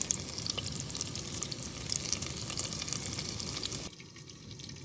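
Chicken patties fry in a pan with a dense, close crackling sizzle that holds steady, then drops to a quieter hiss near the end.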